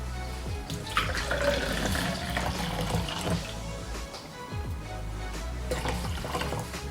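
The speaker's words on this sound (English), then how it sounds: "Let's pour some water out and see how well it works." Water pours steadily from a Brita Standard filter pitcher into a cup in the kitchen, a close, continuous splashing trickle lasting several seconds with no voices.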